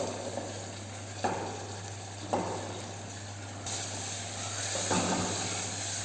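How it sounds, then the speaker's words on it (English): Onion gravy fries in oil for an Indian brown gravy, giving a steady close sizzle and hiss with a few scraping stirs of a spoon through the pan. "You can see I am stirring it continuously, and I can find the oil has started leaving from the side."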